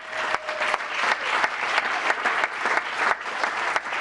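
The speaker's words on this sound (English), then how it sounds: "So those who are here at Council Chambers, if you can join me in giving a nice round of applause." A town council chamber audience claps for a Spirit of Giving award presentation, with sustained, moderately loud applause and a few sharper individual claps standing out near the listener.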